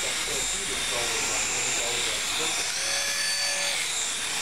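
A battery-powered flying toy hovers over a paddle, its small rotors giving a steady high whirring buzz that holds near and fairly loud throughout, with a faint tone shift late on.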